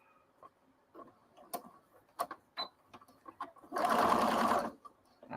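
Sewing machine stitching a quarter-inch seam, heard as a loud, close, steady mechanical whir for about a second, after scattered soft clicks and handling taps.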